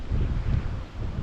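Steady wind buffeting the microphone on an open farm field on a late-August morning during wheat harvest and oat swathing, a continuous low rumbling roar with no voices.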